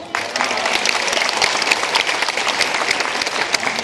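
Crowd applauding at a sea lion show, a dense, sustained burst of many hands clapping, loud and steady throughout, with faint voices mixed into the noise.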